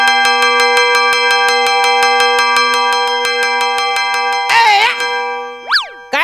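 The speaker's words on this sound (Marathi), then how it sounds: "काय घंटी वाजाडतो रे?" A hand bell rings in fast, even repeated strikes for several seconds, loud and close, then stops; a burst of voice and playful sliding tones follow.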